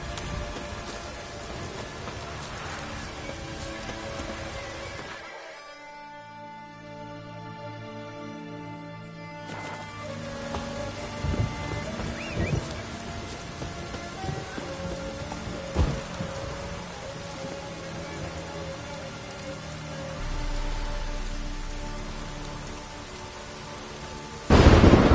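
Steady rain hisses in The Witcher 3, with low rumbles of thunder rolling through and a sharper thunderclap near the end, with no voices.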